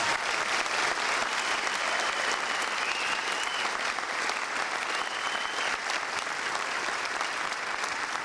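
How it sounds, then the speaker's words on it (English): Audience at a tribute concert breaks into sustained, dense applause, a steady roar of many hands clapping at even loudness throughout without talk on top. "Could we give him a big round of applause?"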